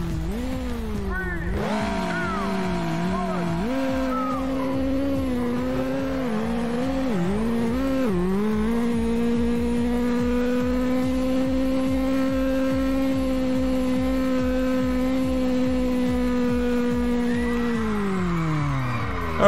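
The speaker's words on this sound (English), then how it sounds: "put it in first gear, build the revs," Race car in the Street Legal Racing: Redline video game, held in first gear on the start line, revving hard and then accelerating, a loud, steady engine drone climbing in pitch with gear changes and no talk.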